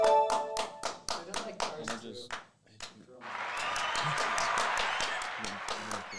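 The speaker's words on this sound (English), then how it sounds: "you can let him clap for a little bit and then rail it back in" A small audience on a movie-naming quiz show claps in a few sharp, distinct claps, then breaks into a denser, sustained round of applause at moderate volume.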